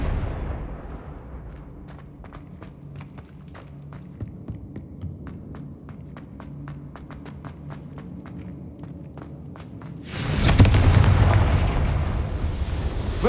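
Confringo fire spells blast repeatedly in Hogwarts Legacy, a string of sharp cracking impacts over a low rumbling bed, building to a loud, sustained roaring burst near the end.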